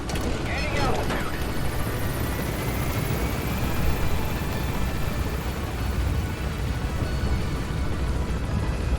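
Pequod helicopter gaining altitude in Metal Gear Solid V: a dense, steady rotor and engine roar fills the whole stretch, loud and continuous with no letup.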